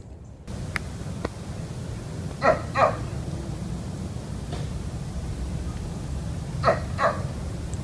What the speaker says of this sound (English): that's a Greek dog barking